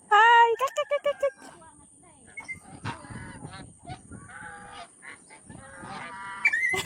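A baby gosling honks in a rapid burst of shrill, close calls, then softer peeps and rustling continue under quiet background activity.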